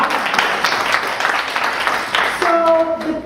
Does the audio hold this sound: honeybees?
no